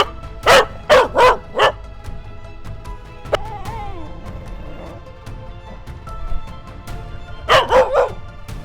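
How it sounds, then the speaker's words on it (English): A dog barks near a driveway and decking being cleaned: four loud sharp barks in quick succession, a stretch of quieter whimpering and rustle, then another burst of three or four barks at the end. "Got a trampolining dog here."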